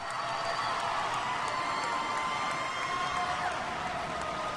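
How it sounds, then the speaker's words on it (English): Crowd at a karate national championship cheering and whooping after a match win, a steady, loud wash of voices filling the whole stretch with no pause. "The crowd goes wild."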